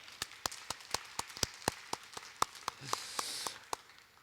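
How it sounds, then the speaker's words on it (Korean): Applause from a church congregation at a Thanksgiving Sunday service, heard as a steady run of sharp, evenly spaced claps at moderate distance, swelling briefly near the end. "우리 하나님께 감사와 영광의 박수 올려드리겠습니다."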